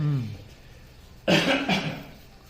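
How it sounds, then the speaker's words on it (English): A single harsh cough bursts out close by after a moment of quiet, short and forceful with a rough, breathy tail. "Coughed into his elbow"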